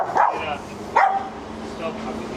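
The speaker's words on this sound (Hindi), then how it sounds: "छोटा सा कुत्ता है और मैं उससे डर गया" A small dog barks three times in sharp, close bursts, roughly a second apart, over steady background noise in Lebanon.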